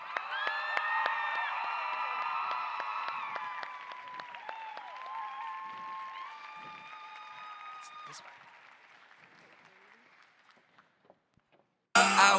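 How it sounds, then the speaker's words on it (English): Applause from an FFA chapter gathering for county representatives, a steady crowd clapping with some cheering that gradually fades out over about ten seconds, before music cuts in abruptly at the end. "Let's hear another round of applause for our county representatives"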